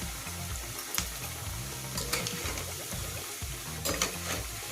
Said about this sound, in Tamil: எண்ணெயில் பொரித்து எடுக்கணும்.